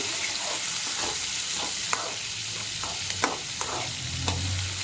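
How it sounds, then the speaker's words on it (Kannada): Masala of onion, tomato, cinnamon and clove frying for a mutton curry, a constant loud sizzle with a few sharp clinks of a ladle stirring the pan. "ಮಸಾಲೆ ಚೆನ್ನಾಗಿ ಫ್ರೈ ಆಗಿದೆ"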